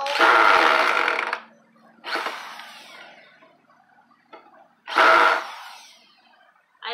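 A power drill with a worn, stripped bit whirs into scrap wood in three loud bursts, each trailing off, with quiet pauses between and a brief start at the end.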